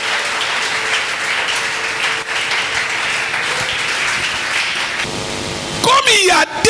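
A church congregation applauds with loud, dense clapping that fills the room and then gives way to a few whoops and cheers near the end.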